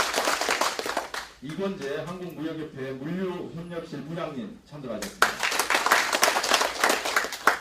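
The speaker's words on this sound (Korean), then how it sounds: "힘차게 박수 쳐주시면 고맙겠습니다" Audience applause at a Korean logistics policy panel discussion: a loud burst of clapping, then a voice introduces a panelist over a PA, then a second burst of sustained clapping.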